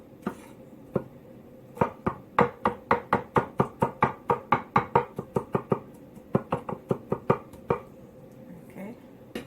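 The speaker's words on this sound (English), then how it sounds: "You have to be patient to cut garlics here." Knife chopping garlic on a cutting board for stuffed cabbage rolls, a fast run of sharp, close knocks in bursts, steady rhythmic chops with short pauses between runs.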